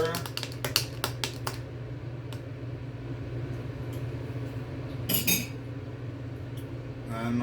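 A spoon stirs an iced drink, giving quick clinks against the glass early on, a brief rattle midway and a final clink, all close and fairly faint.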